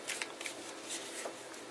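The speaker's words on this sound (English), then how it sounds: "so I'm just going to shuffle." Tarot cards are shuffled up close in a quick burst of crisp riffling flutters, several short rustling pulses in under two seconds, with no talking.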